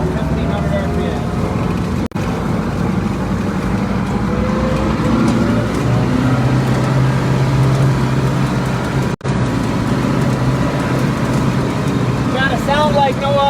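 Schlüter Super 2000 TVL tractor engine holding steady at 1,500 RPM, a loud continuous low drone with a persistent mechanical hum, under occasional talk nearby.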